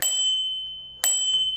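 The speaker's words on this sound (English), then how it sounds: "And on the right side, we do have a bell." A handlebar bell on a moped-style Revibikes Cougar e-bike rings twice, two bright metallic dings about a second apart, each leaving a sustained ringing tone that fades slowly.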